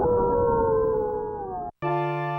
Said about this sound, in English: The game begins by playing the sound of creaky hinges and howling wolves when you make title screen selections